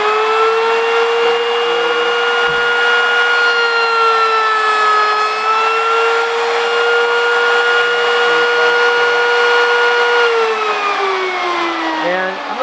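A router cutter on a coping sled runs loud and steady for a wood tenon, a sustained high motor whine that dips briefly near the end, with no talk over it.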